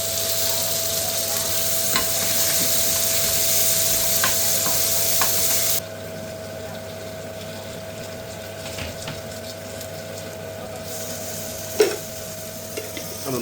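Onions sizzle in hot oil with toasted cumin in a pan, a loud, steady frying hiss that drops noticeably midway, with occasional clinks from stirring.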